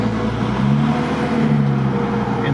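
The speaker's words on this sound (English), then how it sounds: "reversing out of a tight corner, because you'll hear my gearbox shake" Gearbox of a daily-driven car with a welded differential shaking and juddering while reversing out of a tight corner: a close, loud, continuous low rumble with a wavering hum running through it.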